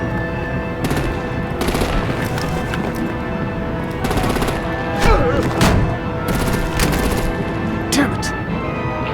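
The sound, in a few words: artillery and gunfire in Batman video game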